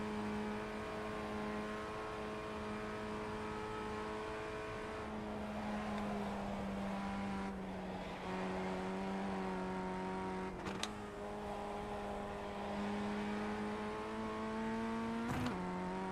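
A Porsche race car engine in a sim racing video game holds a steady, droning note for a long stretch, with brief dips and a couple of sharp shifts, loud and continuous with no talking.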